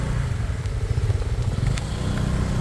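A motorcycle rumbles along a muddy road with a low, steady engine drone and a faint crackle and clatter. The sound is close and continuous and there is no talking.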